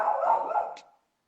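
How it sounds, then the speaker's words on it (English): A pet dog gives a short burst of sound indoors, a single close, fairly loud bark-like call that trails off within a second, with no talk over it. "that's my dog Ralphie."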